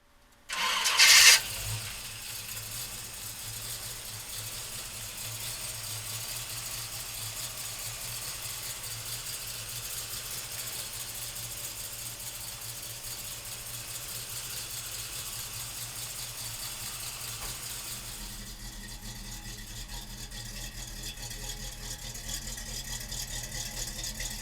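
A 1970 Chevrolet Chevelle convertible's engine cranks briefly and catches with a loud burst, then settles into a steady, close idle that holds for over twenty seconds, shifting slightly in tone near the end.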